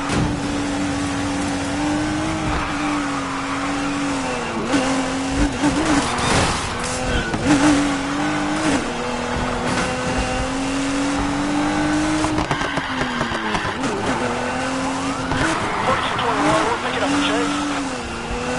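Cars chase through the streets in Need for Speed, with engines revving and shifting pitch, tyres squealing and skidding, all loud and sustained while radio voices talk over the action.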